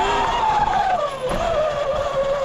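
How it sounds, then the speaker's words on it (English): Car tires squeal in a long sliding skid while driving toward a jump, a loud continuous screech that bends downward in pitch over a steady engine drone. "I just slid like bad when I was about to hit that jump"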